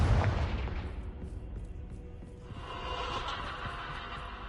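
Confringo spell explosion in the Hogwarts Legacy video game, a loud booming blast at the start that decays into rumbling debris, followed by a softer crackling burst a couple of seconds later.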